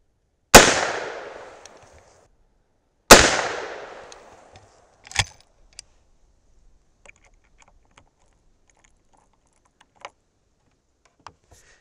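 A lever-action Henry Big Boy rifle fires two loud .357 Magnum rounds, powder-coated 158-grain bullets over Alliant 2400, a few seconds apart, each with a short decaying echo, followed by scattered faint clicks and handling noises.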